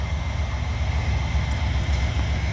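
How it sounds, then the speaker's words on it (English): A manifest freight train led by several diesel locomotives, using dynamic brakes, rumbles past in Abbeville as a steady, fairly loud low roar with a rattling undertone throughout. "There's a train. I guess it's coming in for a stop."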